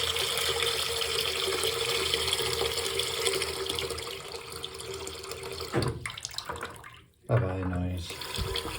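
Water from a sink with a newly fitted tap drains sluggishly, a continuous gurgling, rushing wash that holds steady, then dips briefly into a short gap before resuming.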